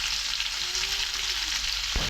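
Potatoes frying in oil give a loud, continuous hissing sizzle that stays close and steady, ending with a short knock.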